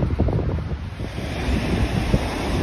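Sea waves wash in steadily along the Tuscan coast, with strong wind buffeting the microphone, a continuous loud roar close by with no speech.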